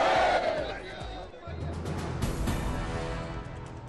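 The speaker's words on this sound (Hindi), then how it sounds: "अयोध्या के नागेश्वरनाथ मंदिर में सावन के दूसरे सोमवार पर लगी शिव भक्तों की भारी भीड़" A large crowd of Shiva devotees at Nageshwarnath temple in Ayodhya on the second Monday of Sawan, a steady mass of voices and shouts, fairly distant and diffuse.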